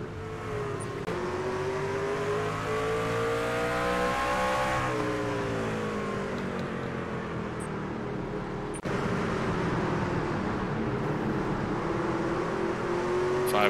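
NASCAR trucks racing at Martinsville Speedway in the video game iRacing: loud, steady engine drone from several trucks, their pitch rising and falling as they accelerate out of the corners and lift, with a sharp thud partway through.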